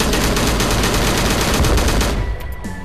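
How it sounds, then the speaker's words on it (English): A German gun in a first-person shooter game fires a loud, rapid burst of automatic fire for about two seconds, then cuts off abruptly, leaving only quiet game ambience. "German pew-pew gun."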